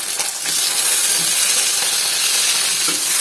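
Tomatoes dropped into hot oil in a wok-like kadai over browned onions, making a steady, loud broadband sizzle and hiss that holds throughout with no talking.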